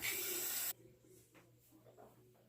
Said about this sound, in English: gotta rinse the razor